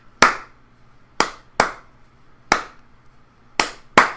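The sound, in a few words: hand clapping a rhythm for dictation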